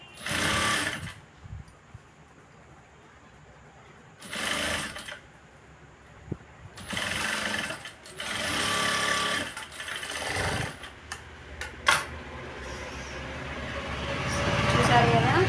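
A sewing machine stitches blouse fabric in several bursts of steady whirring, separated by pauses while someone speaks. The final run builds louder.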